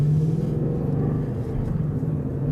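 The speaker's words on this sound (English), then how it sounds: "That V8 rumble is incredible" A 2015 Ford Mustang V8 engine rumbles steadily and deeply while driven in comfort mode, a continuous close, loud low drone with no talking over it.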